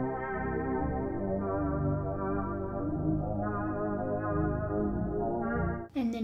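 A DX7-style synth pad preset with its filter cutoff turned down slightly sustains chords throughout, warm and dense with a muted top, shifting voicings every few seconds before a brief noisy burst at the very end.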